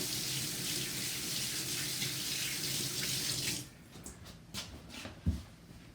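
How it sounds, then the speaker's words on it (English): A kitchen tap runs in a steady gush as oily hands are rinsed while making focaccia, then shuts off, leaving a few wet drips and small handling sounds. "I'm gonna rinse my hands."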